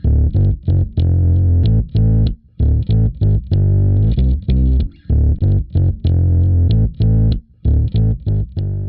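A synth bass line run through the RP-Distort plugin with its distortion set to 30% and a 4x10 cabinet option, giving choppy, gritty, saturated notes in a steady staccato rhythm, loud and with no voices.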